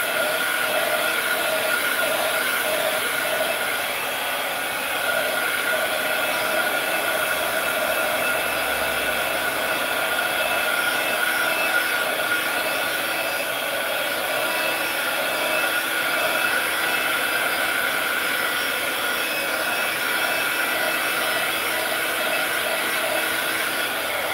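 A hair dryer runs steadily and loudly through a crafting session, a constant blowing whir with no pauses or changes in pitch.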